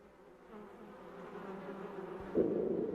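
Close, steady buzzing of many bees crowding around a feeder, thickening and growing louder toward the end, with no voices.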